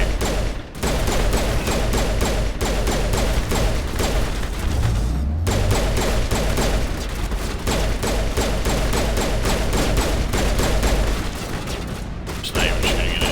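Rapid gunfire from the video game Mass Effect Legendary Edition, loud and sustained across the clip, with dense bursts of shots and occasional heavy booms, close and continuous with no pauses.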